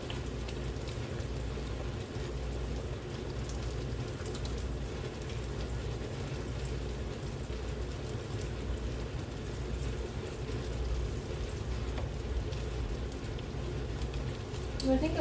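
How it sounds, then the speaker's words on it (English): Steady rain falls throughout, a continuous dense patter with low rumbling underneath that may be distant thunder, no distinct clap standing out. "I think the thunder has finally started."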